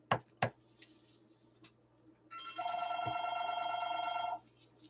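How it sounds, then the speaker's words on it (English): A telephone rings indoors for about two seconds with one bright, sustained electronic tone after a few faint knocks and taps, in an otherwise quiet room with no speech. "Sorry about the phone ringing."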